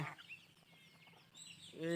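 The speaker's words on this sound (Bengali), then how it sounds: "আমার ছোট দেশি হাঁসের বাচ্চাগুলো কই গেল" Young domestic ducklings call in a few high, thin peeps, with a louder burst of chirping at the very end over faint background noise.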